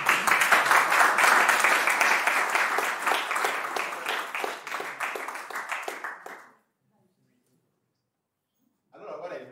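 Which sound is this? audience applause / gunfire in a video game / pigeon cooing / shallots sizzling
audience applause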